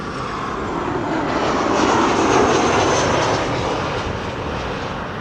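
Thirteen-year-old airliner arriving at Amsterdam Schiphol Airport, its engines giving a loud, steady roar that swells and fades slightly as it passes close by.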